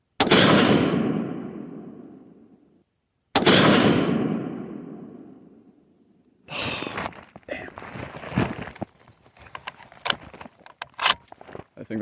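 Two booming sniper rifle shots, a few seconds apart, each ringing out in a long, fading echo. They are followed by scattered rustling and clattering handling noises.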